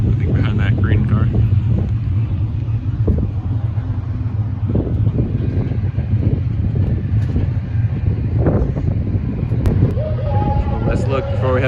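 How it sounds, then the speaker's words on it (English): Strong gusty wind buffeting the microphone outdoors at a racetrack, a constant low roar with people talking over it and faint engine noise in the distance. "It's super windy today."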